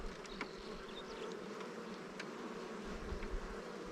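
Honey bees hum in a steady, soft buzz around an opened hive in spring, with occasional individual bees droning past close by.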